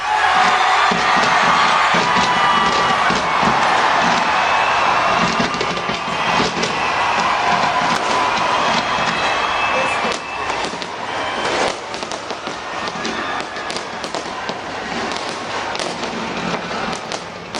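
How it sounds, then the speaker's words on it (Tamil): A New Year fireworks display in Auckland, New Zealand sounds as a dense, continuous wash of crackling bursts and dull thuds, with a crowd's roar and cheering underneath throughout. "ஆக்லாந்து நகரில் கண்ணை பறித்த வான வேடிக்கை."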